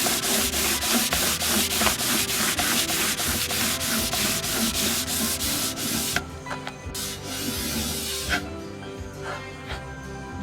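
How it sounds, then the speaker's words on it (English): Hand sanding along the edges and top of a wooden piece in a dusty workspace, a steady rhythmic back-and-forth scrubbing, close and loud, that changes to a lighter hiss partway through. "I'm just going to go a slight sanding above"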